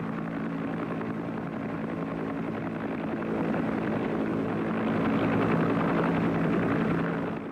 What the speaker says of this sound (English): The most effective helicopter gunship in American service was the Huey Cobra.